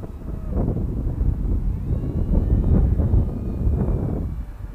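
Steady, blustery wind buffeting the microphone at a windy RC glider flying field, a twin-boom Lidl glider conversion on its test flight, loud broadband rumble rising and falling in gusts throughout.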